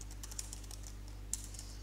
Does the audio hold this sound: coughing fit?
no